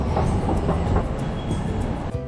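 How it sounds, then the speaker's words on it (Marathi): Underground metro train riding toward an airport, heard from inside the car: a continuous loud rumble with rhythmic wheel clatter and faint high squeals, sustained steadily with no talk. "अंडरग्राऊंड मेट्रोने एअरपोर्टच्या दिशेने निघालो."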